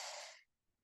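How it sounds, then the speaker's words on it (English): A deep breath drawn in and let out through open nostrils during a yoga breathing exercise, a close, soft airy rush lasting under half a second before fading to near silence. "begin with a deep breath in and out through open nostrils"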